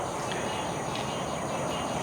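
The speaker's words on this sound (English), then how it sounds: "I literally just stopped the video because the frogs were going crazy" Frogs call in a dense, continuous chorus on a Florida night, loud and unbroken throughout with no voices.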